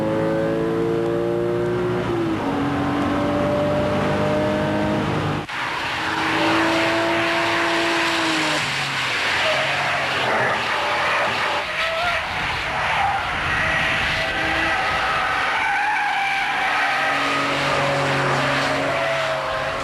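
A high-revving Porsche 911 996 GT3 engine screams through the gears, pitch climbing and dropping with each shift, loud and close, with tire noise and roar.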